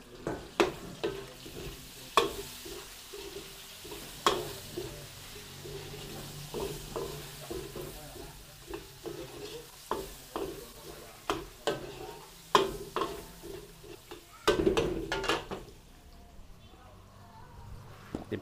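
Onions frying in a pan as part of a Filipino dish, a continuous sizzle broken by frequent clattering stirs and utensil taps, with faint voices in the background.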